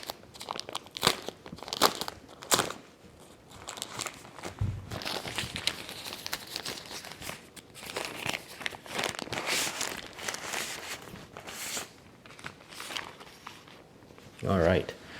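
Packing tape is pulled and peeled from the box of a Keychron Q1 Max keyboard during unboxing, with a run of ripping, crinkling and scraping noises of cardboard and plastic, close and fairly quiet.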